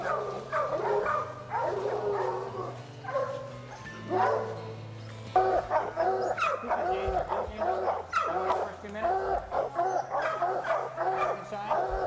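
Several hunting dogs bark and bawl excitedly in overlapping bursts at a treed raccoon during a youth raccoon-hunting competition, with someone talking now and then over the baying.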